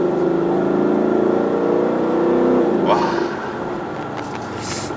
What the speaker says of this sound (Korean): 이게 정말 미국의 전통적인 그런 머슬카에서 나는 그런 배기음을 들려주고 있는데요